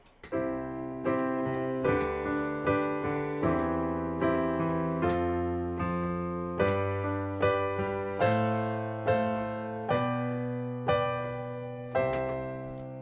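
A piano plays a slow progression of sustained chords in inversions, each struck cleanly and left to ring before the next, with no voices.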